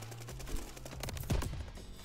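Gunfire from a Type 99 rifle in the Call of Duty Vanguard shooter, a couple of sharp shots with some background game noise and no speech.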